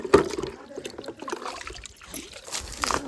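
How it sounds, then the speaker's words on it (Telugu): Water is poured and splashed onto stone slabs outdoors, with close, uneven trickling and splashing bursts in a short, fairly quiet stretch. "ఏమో నీళ్ళు పోసి కొడతా"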